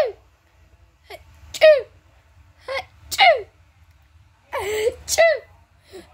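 A voice acting a cartoon cold gives a series of sneezes. There are about five sharp bursts spread unevenly through the clip, with short pitched intakes before them.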